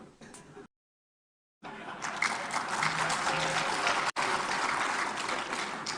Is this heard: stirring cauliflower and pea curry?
no